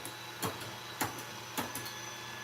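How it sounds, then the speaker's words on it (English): Purple paint rolled out with a brayer, giving three sticky, crackling swipes spaced about half a second apart over a steady background hum, close and moderately loud. "I'm just going to roll it out with my brayer"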